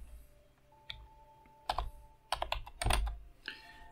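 Computer keyboard typing for a WordPress website title setting: quiet, irregular clusters of clicky keystrokes with short pauses between bursts, close and alone.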